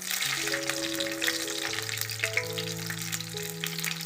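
Green chilies hit hot oil in a frying pan for quail gravy, giving a steady, close sizzle that runs the whole time, with a sustained musical drone underneath.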